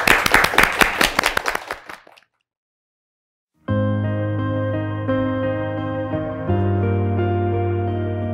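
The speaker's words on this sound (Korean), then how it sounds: "한번 박수로 청해 듣겠습니다" An indoor audience at a televised music talk show claps for about two seconds, loud and close, with the clapping tapering off quickly into silence before music begins.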